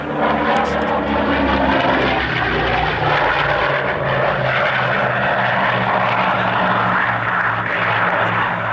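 A single-seat propeller fighter with a powerful R2800 radial engine flies past at the RAF Coningsby airshow, a loud, continuous droning engine roar with a strong throbbing low end, sustained throughout.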